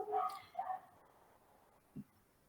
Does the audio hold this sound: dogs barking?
yes